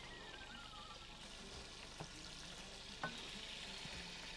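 Butter melting in a pan for mint-sauce steak, seasoned with black pepper and salt, gives a steady, fairly faint sizzle throughout, with a couple of soft clicks and no voices.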